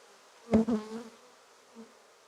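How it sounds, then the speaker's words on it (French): A single honey bee buzzes close by in a brief, loud pass during a pre-winter apiary inspection, followed by a faint second buzz in otherwise quiet surroundings. "les abeilles ont l'air d'aller bien"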